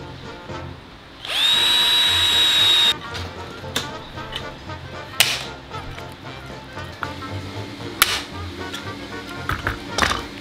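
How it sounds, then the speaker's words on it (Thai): A power drill bores holes in an aluminium screen door frame, a loud steady whine of under two seconds, followed by clicks and handling knocks from the workpiece. "เพราะฉะนั้นเนี่ยเราก็เจาะรูไว้"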